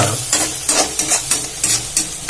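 Onion tempering with turmeric, stirred in a pan while it fries: a close hiss of sizzling oil broken by quick, regular scraping strokes, about five in two seconds, with no voices.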